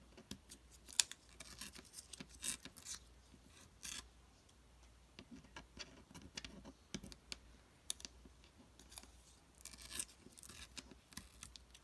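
Scissors messily snipping paper for a craft project: a series of close, crisp cuts and light paper rustles in irregular bursts, quiet and with no voices.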